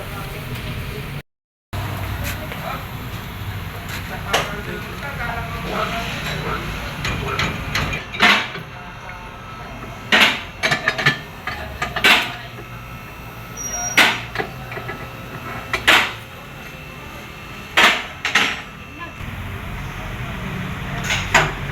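Metal knocks and clanks from removing bolts and a bushing on a Nissan Sentra Exalta with a metal-on-metal clunking fault, sharp irregular impacts at close range over steady workshop background noise.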